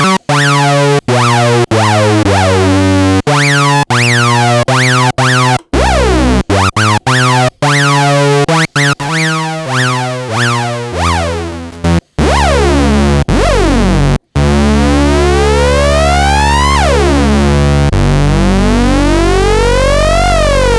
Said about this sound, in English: the envelope settings are being directed to the frequency of oscillator 2.